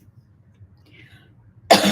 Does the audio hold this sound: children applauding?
no